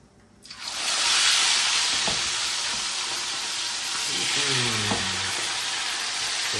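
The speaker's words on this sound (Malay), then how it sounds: "Kita nak goreng satu lagi." Turmeric-coated fish (ikan gonjeng) drops into hot oil in a pan and erupts into a loud, steady sizzle, with crackling spatter and faint utensil clinks continuing throughout.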